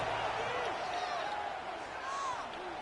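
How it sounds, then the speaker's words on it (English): A college football video game plays a stadium crowd roaring in the background, a broad, steady wash of noise that keeps on under a commentator's voice. "Listen to this crowd just shaking the girders of this place, trying to help their defense."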